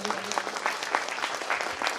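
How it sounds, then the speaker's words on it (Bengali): Loud applause from an audience at an Urs Mubarak gathering at Tulsiberia Dargah Sharif, dense continuous clapping from a crowd for the full two seconds. "জোরে হাততালি"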